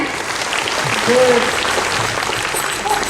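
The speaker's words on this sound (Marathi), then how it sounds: "मग यांच्यासाठी जोरदार टाळ्या होऊ द्यायच्या" An audience claps throughout at a school Dahi Handi celebration, a continuous, fairly loud patter of many hands mixed with voices.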